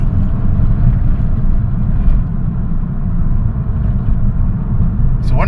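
A 2009 Honda Fit with an oxygen sensor fault revs under acceleration, giving a loud, close, steady low rumble that holds throughout, with a brief higher noise at the end.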